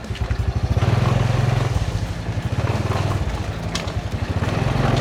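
A motorcycle engine runs nearby with a rapid, pulsing thump, steady and fairly loud, rising slightly in places, with no talking.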